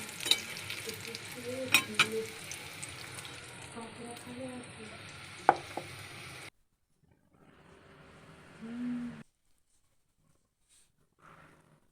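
Cabbage pakoras with coriander leaves and green chilli sizzle in hot oil, with steady crackling and occasional clinks of stirring nearby for about six seconds, before dropping to near silence with faint scattered sounds.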